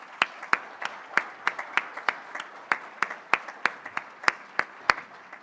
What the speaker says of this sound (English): Please join me in giving these folks a great round of applause.